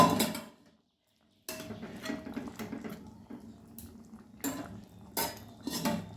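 Green chillies stirred into a shol fish curry in a pan: metal utensil scrapes and clinks in short bursts with a brief pause, close and moderately loud, no voices.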